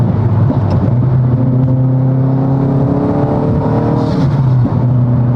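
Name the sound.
sports car exhaust heard from the cabin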